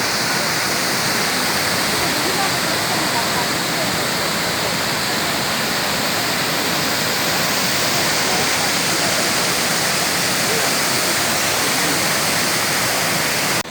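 A river pours down into the Saar, a steady, loud, unbroken rush of falling water that fills the whole stretch without pause.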